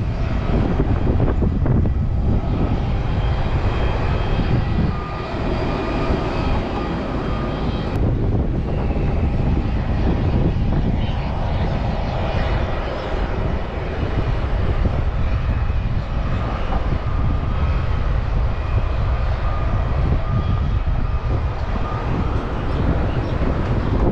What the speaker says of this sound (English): This is the airport.